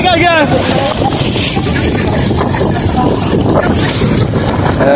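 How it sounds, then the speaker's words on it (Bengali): A boat passes on the water at Balsa in Natore. A loud, steady low rumble is mixed with heavy wind buffeting, and voices are present throughout. "এখান দিয়ে আপনার এই যে নৌকা যাইতেছে"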